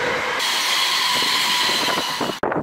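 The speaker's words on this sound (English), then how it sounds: "it's quite moody when the train's going by." A train rumbles past close by on railway lines, a loud sustained roar with a steady metallic squeal that cuts off abruptly near the end.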